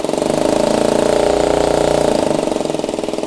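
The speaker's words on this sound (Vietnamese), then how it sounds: "Khoan chơi thôi nha anh em, không có nhấn luôn nha." A Bosch rotary hammer, made in Germany with a 17 mm chuck and built for concrete, runs at full speed in a loud, steady pulsing rattle, heard up close with no one talking.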